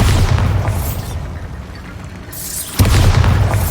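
A Bombarda spell blast in Hogwarts Legacy, a loud booming explosion that decays into a rumble, then a second heavy burst hits near the end, close and without any talk.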